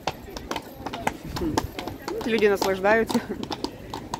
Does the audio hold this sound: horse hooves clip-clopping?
yes